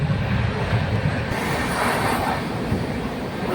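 A crowded passenger train rolls along, heard from inside as a steady, dense rumble and rattle without a break.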